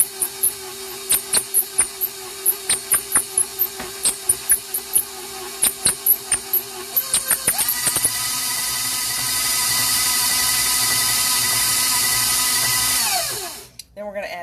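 An electric mixer beating upside-down cake batter, starting in short repeated pulses and then running in a steady whine before shutting off near the end.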